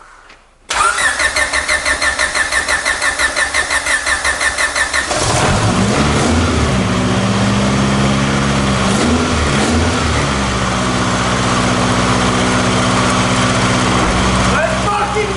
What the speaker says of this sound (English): Go ahead and crank her.